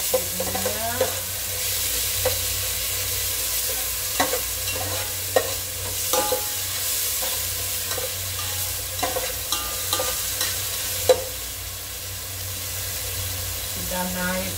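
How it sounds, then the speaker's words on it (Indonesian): Fish frying in a little oil for an Indonesian-style sour eggplant and swordfish curry, a steady close sizzle broken by repeated clicks and scrapes of stirring. "Goreng dengan sedikit minyak."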